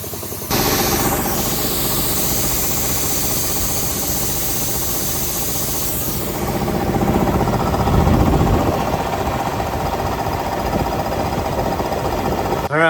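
A Predator gas engine with about 72 hours of use runs an air compressor, a loud steady mechanical chugging and knocking that holds throughout, close by, with a change in tone about halfway through.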